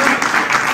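A brief burst of audience clapping in a workshop room after a talk, a dense, even patter of hands that holds steady for a moment.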